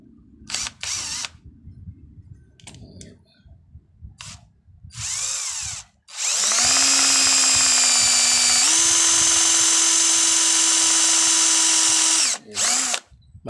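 A cordless impact drill revs loudly in a long sustained burst lasting several seconds, its whine stepping up in pitch partway through, after a few short clicks and handling knocks, then a brief final spurt.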